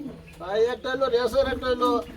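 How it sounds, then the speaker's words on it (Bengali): A pair of pigeons coos softly and throatily, repeating in quick rolling phrases close by, with a faint voice in the background. "এই জোড়া কি কবুতর জোড়া ভাই"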